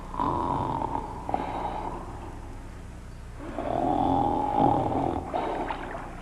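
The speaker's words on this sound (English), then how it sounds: "And dreaming pleasantly, he began to snore." Deep, rasping snores rise and fall in long breaths, loud and close, with a rumbling rattle and no talking over them.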